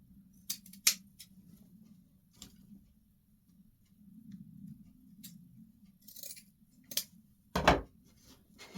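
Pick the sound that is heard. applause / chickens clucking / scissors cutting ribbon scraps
scissors cutting ribbon scraps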